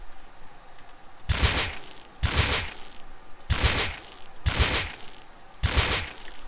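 AK rifle spray fire in the video game Rust: five loud, sharp bursts spaced about a second apart, each a short rattling volley, with no talk.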